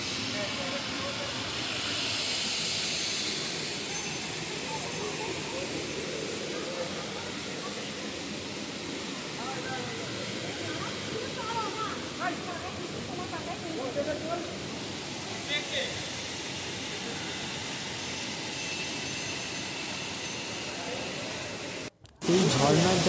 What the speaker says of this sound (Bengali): এই ঝর্ণার যা স্রোত, তাতে আমরা দাঁড়াতেই পারছি না।